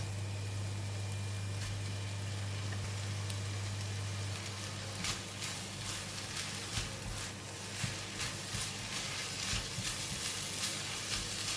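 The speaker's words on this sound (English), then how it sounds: "When the egg almost cooked, I'm going to stir fry together and putting in the rice." Egg and rice stir-fried together in a pan for ham fried rice, a soft steady sizzle with scattered scraping stir clicks, close and fairly quiet, no talking.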